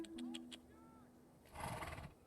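A horse in the animated film Spirit: Stallion of the Cimarron gives a short, loud, shaky neigh near the end, following some quieter sounds and people talking.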